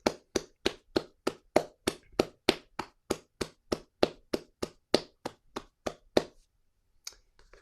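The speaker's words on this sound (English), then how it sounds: "give yourselves a round of applause" Crisp, evenly spaced claps of a single pair of hands, close to the microphone, at the end of an online SpeakEasy meeting. About nineteen claps come at a steady pace before stopping, followed by a faint small noise.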